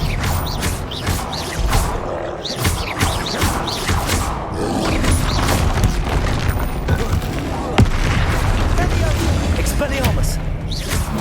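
Bombarda spell explosions and other spell effects in Hogwarts Legacy combat, loud, booming blasts and thumps mixed with mechanical clatter, busy and continuous, with voices shouting spell names throughout.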